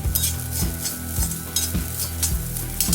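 Grated coconut and curry leaves roast in a pan with a continuous dry sizzle and stirring scrapes, over a steady rhythmic beat in the background.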